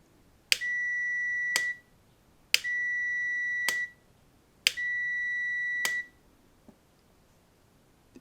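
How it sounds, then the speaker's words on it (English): Motorcycle starter solenoid clicks sharply as it is energised, and a multimeter sounds a steady continuity tone each time; three click-and-beep cycles, each beep lasting about a second, close and clear in a quiet room. "what we should hear is the solenoid click and the multimeter confirm continuity"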